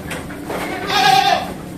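Goats in a farm pen holding about six females bleat close by, one wavering, nasal cry rising over a low background murmur of the herd.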